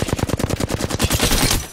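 Rapid automatic gunfire in the video game Apex Legends rattles in quick bursts, then blurs into a dense, continuous volley of loud shots.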